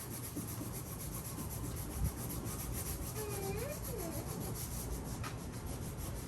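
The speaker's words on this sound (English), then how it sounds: "Now a quick sand before we put on the actual white paint." Furniture being hand-sanded before repainting, a steady continuous rubbing and scratching of abrasive over wood, close and fairly even throughout with a few small bumps and knocks, no talking.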